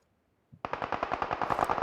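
Rapid automatic gunfire in a video game, a close, loud burst of evenly spaced shots that starts abruptly after a brief click and continues steadily to the end, with no voices.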